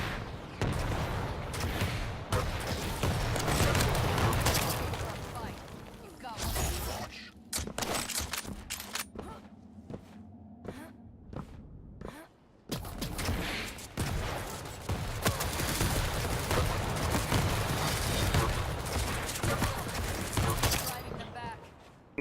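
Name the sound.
nail gun firing in Quake Champions video game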